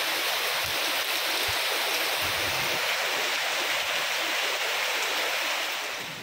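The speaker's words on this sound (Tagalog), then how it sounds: "Lakas ng ulan sa lake." Heavy rain pours steadily onto a boiling lake at Manito, Albay, a dense continuous hiss of water with a few low thuds, loud and close throughout.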